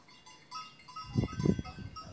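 Grazing sheep giving a few short, fairly close bleats in the second half, rising out of a quiet outdoor background with faint ambient noise.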